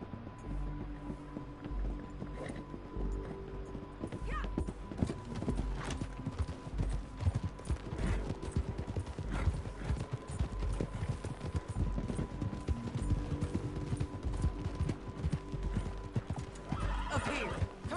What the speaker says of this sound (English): Get back on your horse, John.